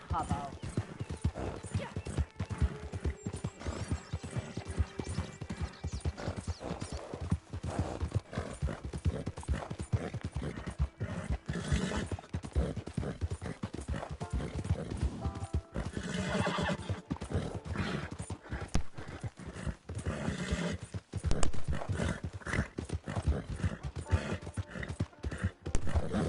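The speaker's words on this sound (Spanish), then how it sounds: "Desgraciado el caballo este, tío, que lento." Horse hooves clip-clopping at a steady fast pace in Red Dead Redemption II, with occasional whinnies and someone talking over the continuous rhythmic hoofbeats throughout.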